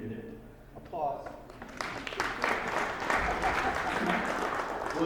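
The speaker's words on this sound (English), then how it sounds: "Applause." An audience at an angel investor group's meeting breaks into applause, steady clapping that builds after a moment and continues fairly evenly at moderate distance, with some murmuring underneath.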